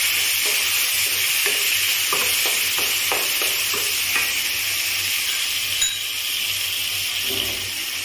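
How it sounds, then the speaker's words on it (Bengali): Chopped onions stirred into taro greens in a frying pan for a prawn dish, a spoon scraping in a steady run of short strokes over a constant close sizzle. "ওটা পেঁয়াজ কুচিয়ে রেখেছিলাম, সেটাকে একটু দিয়ে দিলাম। এবার এগুলোকে সব নাড়াচাড়া করব।"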